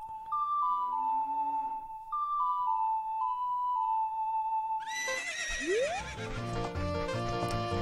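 In Zelda: Ocarina of Time, an ocarina plays a short melody, then a game horse whinnies loudly with a rising neigh and snorts, close and clear.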